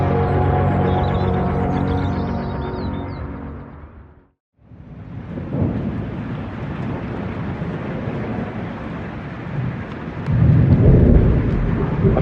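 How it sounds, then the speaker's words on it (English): Heavy rain drums on the steel roof of a canal boat with a deep, loud rumble of thunder, fading briefly to near silence, then returning as a dense close patter with a swelling roll near the end. "I've just been woken up by the rain on the roof"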